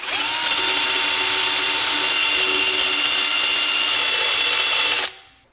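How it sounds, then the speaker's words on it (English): A power drill whirs at high speed, a loud steady grinding whine as a wire wheel scrubs metal parts on a seized 1960s luxury car, then cuts off abruptly near the end. "Just going to take a drill and a wire wheel to those"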